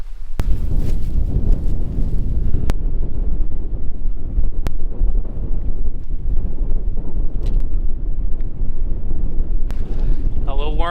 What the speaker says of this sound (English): I didn't expect it to be this windy up here.